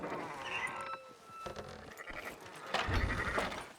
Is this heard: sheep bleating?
yes